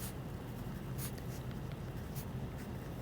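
Pen scratching steadily on paper while drawing the whiskers of a box plot, a soft, close, continuous scribble with faint strokes and no talking.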